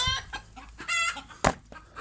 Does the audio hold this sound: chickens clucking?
yes